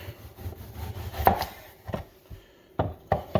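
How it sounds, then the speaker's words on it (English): A knife chops through a tomato on a cutting board in a home kitchen, with a few separate sharp cuts spaced out over a few seconds, close and fairly clear against a quiet room. "next thing I'm going to do is slice up this tomato right here"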